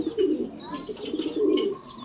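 Pigeons in a loft coo close by, soft repeated throaty rolling calls in two main bursts, with faint higher chirps and background noise but no talking.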